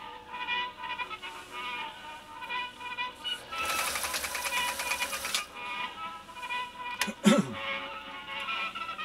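A Pfaff 339 sewing machine stitches a zigzag in a short burst of rapid, even mechanical chatter lasting about two seconds, set against quiet background band music.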